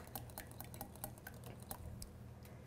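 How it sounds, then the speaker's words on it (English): Free-range eggs are whisked in a bowl, a quick rhythmic series of light clinks and sloshing taps at close range, fairly soft and continuous. "we're just going to whisk these before we get our sausage and our cheese in there"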